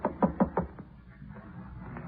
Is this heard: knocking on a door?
yes